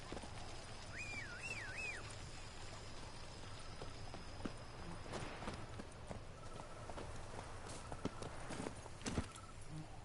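Roach the horse's hooves clip-clopping steadily on the ground in The Witcher 3: Blood and Wine, a continuous moderate rhythm under game ambience with faint bird chirps.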